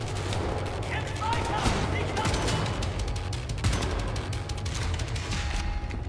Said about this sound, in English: And I'm still being shot at